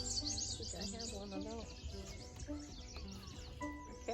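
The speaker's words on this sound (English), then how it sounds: "It was a common yellowthroat." Chirping calls of a common yellowthroat ring out at Magee Marsh, repeated several times over about four seconds, with people talking nearby at the same time.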